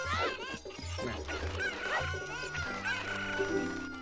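Chickens cluck and squawk in a video game chicken minigame, with a busy, overlapping run of loud honking clucks and calls. Game music or other tones sit underneath.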